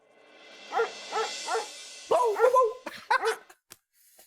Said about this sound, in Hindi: यार हिमांशु, इस कुत्ते का गुस्सा बढ़ते हुए देख के मेरा भी एक्साइटमेंट बढ़ रहा है।